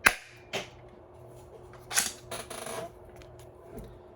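A 3D-printed Nerf blaster fires a dart with a sharp snap at the start, followed by a few softer clicks and clatters of handling, close and fairly quiet, with no voices.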